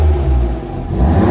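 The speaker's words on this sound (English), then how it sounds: "And what does the exhaust sound like?" A tuned Audi S3 saloon's exhaust revs briefly, a loud low engine rumble swelling and easing over about a second, heard alone at close range.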